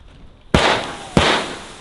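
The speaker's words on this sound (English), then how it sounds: "we're gonna wake him up with a mortar because we have a couple fireworks" Two loud, close firework mortar shots from a Ricochet 10-shot cake, fired outdoors in the snowy Utah winter backcountry at night, each a sharp boom about half a second apart followed by crackling decay.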